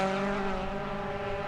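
A drift car's engine revs hard in a sustained, buzzing tone during clutch kicks on a street drifting course. The engine note holds steady and loud across the short stretch.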